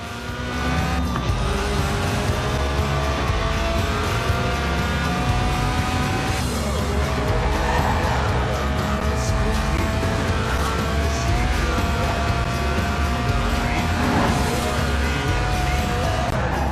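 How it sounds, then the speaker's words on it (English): Lotus Elise Sport 190, a tuned, stripped-out mid-engine rear-drive track-day roadster in Forza Horizon 4, drives with a steady loud engine note and shifting pitch, plus occasional tyre noise, continuous throughout. "this isn't just any Elise, it's a Sport 190, a tuned-up, stripped-out Elise for track days"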